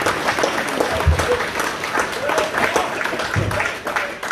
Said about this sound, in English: A big round of applause for everyone who sang in the first half.